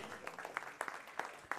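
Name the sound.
audience applause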